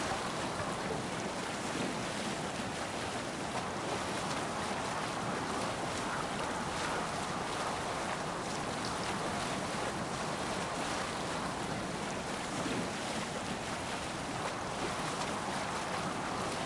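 A sailing ship at sea in Assassin's Creed Valhalla moves through a steady wash of waves and wind that roars evenly and stays full for the whole stretch, with no voices.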